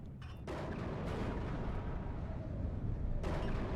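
Rumbling artillery fire from the WARNO war game rolls in as a continuous dense barrage of booms and blasts, moderately loud with no clear break between shots.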